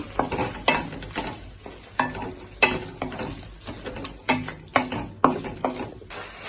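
A spoon stirs soy sauce masala in a pan for chilli prawns, making a regular series of scraping clinks against the metal, roughly every half second, over a soft frying sizzle.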